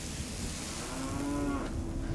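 Cattle in the video game Fallout 3 give a long, low moo that swells and then fades. It stands alone over a steady, rumbling ambient background.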